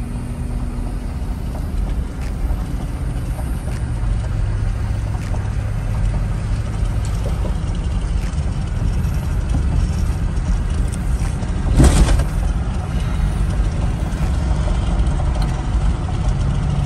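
Road traffic hums with car and truck engines idling, a steady low rumble with wind buffeting, and one brief louder burst midway.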